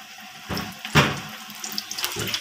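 Samosas dropped into hot mustard oil for frying give a broad, steady sizzling hiss with a few louder bursts as they go in, with no talking.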